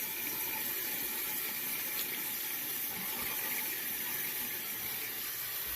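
Water runs steadily from a sink tap while hands are rinsed, a continuous close hiss and gurgle with no breaks.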